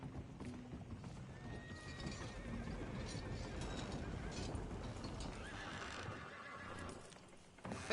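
A horse in a PS4 video game neighs and whinnies while hooves clip-clop steadily, joined by faint mechanical ratcheting, all fairly loud and continuous with a brief drop near the end.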